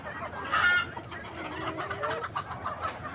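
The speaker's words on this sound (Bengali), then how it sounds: "এইখানে মুরগিগুলো খুব তৃপ্তি সহকারে কাঁঠালটা খাচ্ছে" Chickens cluck softly and repeatedly while pecking at leftover jackfruit, with one louder call near the start and bird chatter around them outdoors.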